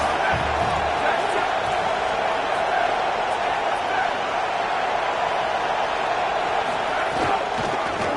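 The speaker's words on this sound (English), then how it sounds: "Big third down as the crowd gets behind this defense." A stadium crowd in a football video game roars loud and continuous, a dense sustained wash of cheering with no breaks.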